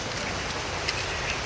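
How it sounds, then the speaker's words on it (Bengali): Steady rain falls on a village road during the monsoon, a continuous broadband hiss of drops on the ground with a few brighter spatters, heard alone without voices. "আপনারা দেখতে পাচ্ছেন বৃষ্টি হচ্ছে সারাদিন"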